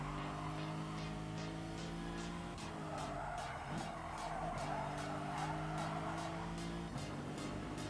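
A race car in GT Sport brakes hard with sustained tire squeal and skidding over a droning engine, the squeal rising and falling in steady waves for several seconds with no talk.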